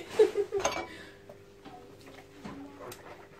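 Dishes are washed by hand during house cleaning. A few close clinks and clatters come first, then fainter scattered knocks of crockery.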